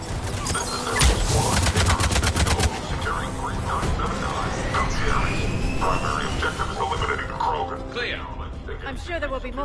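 Enemy gunfire in Mass Effect 3 crackles in rapid bursts, densest during the first few seconds, then continues more sparsely beneath a voice and other battle sounds.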